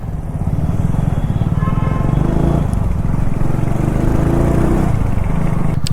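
A modified Hero Splendor motorcycle being ridden, its engine putting out a loud, steady, close puttering drone with no clear change in pace.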